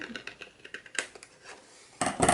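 Scissors snipping paper while trimming a half-circle for a handmade loaded envelope: a string of small, crisp cuts at close range, then a louder rustle of paper and blades at the end.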